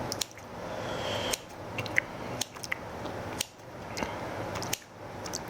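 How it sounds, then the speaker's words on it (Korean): Soft, dull squishing chops come at an uneven pace as a knife or scissors cuts a chewy garaetteok rice cake into bite-size pieces, faint and close. "한입 크기로 잘라줍니다."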